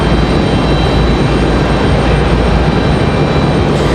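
An airliner at Raleigh-Durham airport powers up for departure on the runway, a loud, close, steady jet-engine roar filling the whole moment without a break.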